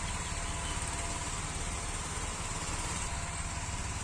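A tractor engine drones steadily and continuously at close range, a low rumbling idle with a buzzing, even tone and no voices.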